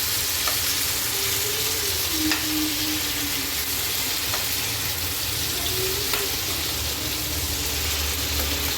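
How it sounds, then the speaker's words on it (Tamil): Chicken pieces for butter chicken fry in a pan of oil, a dense, even crackling sizzle close by throughout, with a few faint clicks and no speech. "இப்போ வந்து சிக்கனை பொரிச்சாச்சு"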